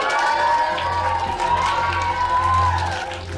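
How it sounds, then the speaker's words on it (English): A crowd of children at Summerhill, a democratic school in Britain, cheers and shouts loudly and continuously after a morning announcement, filling the room with a sustained roar. "They're only cheering because they know they don't have to go"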